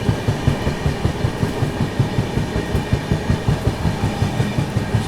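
Train 15658 Brahmaputra Mail runs through Subedarganj station at speed without stopping. Its wheels beat a fast, steady clickety-clack over the rail joints, loud and close, with a continuous rumble underneath.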